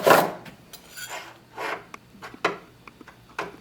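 Frets on a Martin HD-28 acoustic guitar being leveled with a sanding block and 220-grit sandpaper, the nut removed, giving a series of soft, close scraping strokes at an irregular rhythm with quiet gaps between them.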